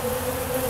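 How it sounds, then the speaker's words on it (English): Honeybees crowd a freshly refilled dry pollen feeder, their steady, dense buzzing close and continuous throughout with no voices over it. "And man, look at the bees."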